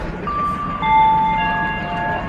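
A train nears Bangalore Cantonment station, its steady tonal whine and hum rising slightly in loudness over a low rumble, with no talking.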